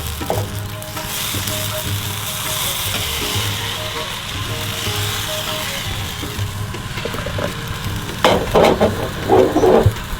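Rice flour hopper batter, mixed with water, coconut and sugar, fries in a miniature wok for a Sri Lankan breakfast. A steady, close sizzle runs throughout, with a few louder clattering knocks near the end.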